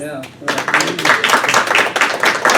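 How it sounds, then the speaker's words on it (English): A meeting audience breaks into a round of applause after a brief spoken word, with steady, close clapping filling the rest of the moment. "give her a round of applause"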